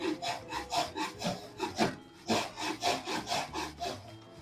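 A hand saw cuts through knotty pallet wood that is clamped down. Steady, rhythmic back-and-forth rasping strokes sound close and fairly loud, with a short pause partway through.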